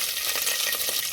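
Mustard seeds sizzle and crackle in hot oil for a tempering, a brief continuous close-up hiss with no voices.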